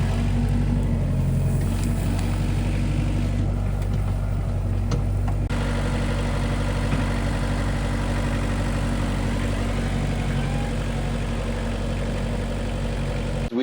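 A tractor with a front bucket moving earth to level ground, giving a steady, loud, low engine drone that runs continuously without pause and without voices.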